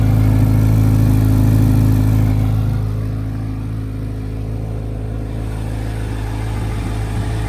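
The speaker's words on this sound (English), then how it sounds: "That exhaust is crazy loud." A 2023 Chevy Corvette Z06 3LZ gives a loud, deep exhaust drone, strongest in the first two seconds, then settles to a steady idle-like rumble with no talking.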